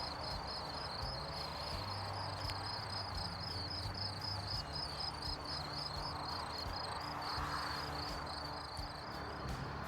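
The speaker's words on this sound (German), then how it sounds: "Dieses Geraschel da. Das bin nicht ich. Das sind Grillen." Crickets chirp at a campsite in Corsica at night, a steady pulsing trill repeating evenly over faint low background hum, distant and quiet with no talking.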